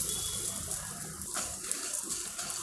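Tamarind soaked in hot water poured into a dish while making a ginger-coconut thogayal, a steady close splashing and trickling pour that holds at an even level throughout.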